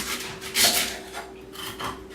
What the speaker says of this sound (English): So chopping the coconut all the way around.